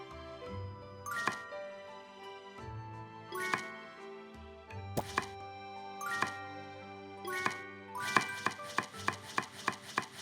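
Knife chops through tomatoes into cubes in a cooking simulation game, sounding as crisp repeated cutting hits over a chiming musical background, ending in a quick run of rapid chops.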